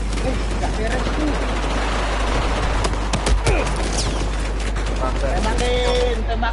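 Rapid bursts of automatic gunfire and single shots crackle through a multiplayer video game community war match, dense and loud against a constant low hum, with players chattering over the shooting.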